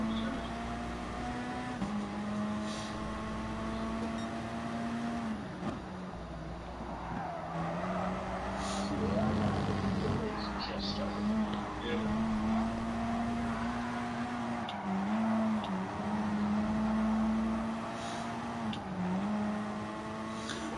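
Racing car engines droning in the Gran Turismo Sport video game, a steady engine tone that rises and shifts through gear changes, with tire squeal and skidding over a continuous race mix.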